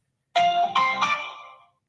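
A phone ringtone sounds once, a bright melodic chime of three quick overlapping notes that rings out clearly and fades within about a second and a half, with no talking.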